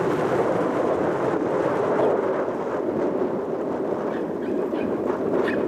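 A westbound Union Pacific freight train rolls up track two at Montour, a steady, loud, broadband rumble that holds even throughout, with wind buffeting the microphone and no voices.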